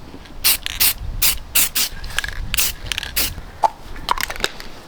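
Spray can hissing onto a fingerboard mold outdoors, a series of short sharp bursts in quick succession, loud and close, with brief pauses between sprays.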